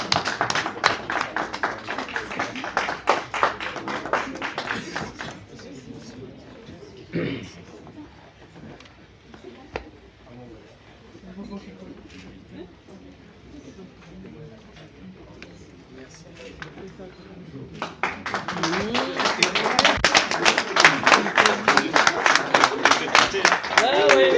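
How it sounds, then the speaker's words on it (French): A burst of clapping and applause at a gala opens, fades under a voice speaking in French, then swells again louder with many hands clapping near the end. "Des applaudissements, s'il vous plaît"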